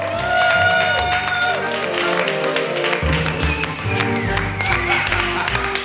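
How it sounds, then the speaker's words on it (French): A studio audience applauds an actor, a dense steady wash of many hands clapping at close range with a few faint voices in the crowd. "Je veux que tout le monde applaudisse JC!"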